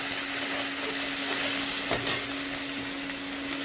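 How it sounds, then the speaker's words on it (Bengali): Cumin seeds, ginger and garlic being stirred as they fry in hot oil, giving a steady close sizzle with faint scraping of the spoon against the pan and no speech. "দিয়ে একটু নাড়াচাড়া করতে হবে"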